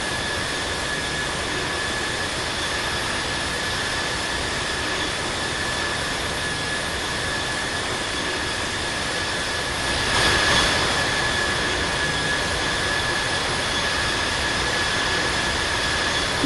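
Boeing 787-10 jet engines in the Infinite Flight game, a loud continuous roar and whine with steady high tones, swelling slightly partway through as thrust builds on the runway.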